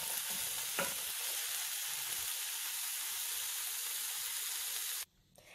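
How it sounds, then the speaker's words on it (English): Diced celery and other vegetables sauté in a pan, giving a steady, close sizzle with a brief stirring scrape near the start before it cuts off abruptly. "Now you're just going to saute your vegetables for about 5 minutes."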